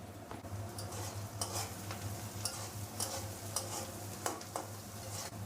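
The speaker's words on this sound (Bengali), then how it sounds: "মাঝের মধ্যে একটু নেড়ে দেবে সবজি" Chopped vegetables fry in oil in a pan for chirer polao, a quiet steady sizzle broken by repeated scraping stirs of a spatula against the pan, close and without talk.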